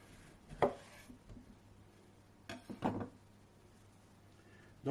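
A knife slicing through a fresh, thin-skinned orange, two distinct cutting strokes about two seconds apart, close and fairly quiet with a soft tap at the end.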